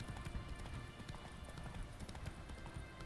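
Roach, the horse in The Witcher 3, gallops in a steady, rapid clip-clop of hoofbeats that runs without a break, with faint voices in the background.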